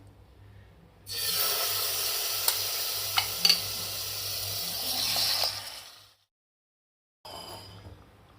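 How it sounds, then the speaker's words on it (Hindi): Marinated chicken frying in about two spoonfuls of oil in a pan, stirred as it cooks: a steady loud sizzle with scraping stir strokes that runs for about five seconds, then cuts off into silence before resuming briefly. "अब हम इसे पका लेंगे। 2 चमचे हमने ऑयल लिया है।"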